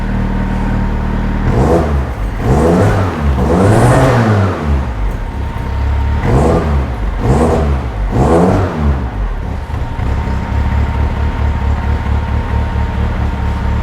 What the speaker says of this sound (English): Now I will give it a few blips, but I won't go mad because A, the engine is cold